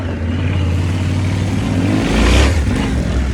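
A motorcycle engine revs under steady throttle, with a loud low rumble that swells to a brief peak near the end, close to the rider.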